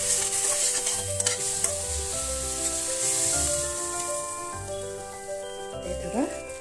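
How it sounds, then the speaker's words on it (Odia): Masala sizzles steadily in hot oil over a low flame for Odia-style aloo dum, with stirring scrapes in a pan close by, continuous throughout with no talk. "ଏବେ ମସଲା ତେଲ ଛାଡ଼ିଲା ପର୍ଯ୍ୟନ୍ତ ଧୀର ଜାଳରେ ସନ୍ତୁଳି ନେବା।"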